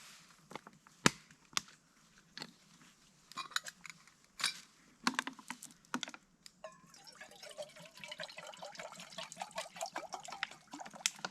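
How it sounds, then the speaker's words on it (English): Water poured into a billy can beside a freshly lit campfire in the Australian bush: a few sharp clicks and taps, then a close, quiet, steady trickle of liquid through the last few seconds, with no talking. "let's see how long it takes to boil a billy of water"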